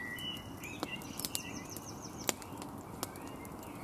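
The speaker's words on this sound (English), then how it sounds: "Anyone know what that bird is?" Birds chirp and sing in short bright phrases over a steady outdoor hum, with a few sharp clicks scattered throughout.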